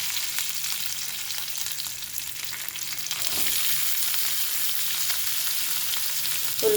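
Curry leaves crackle and sizzle in hot oil while a sweet potato and mango curry is being made, giving a close, steady frying hiss with a brief louder surge partway through.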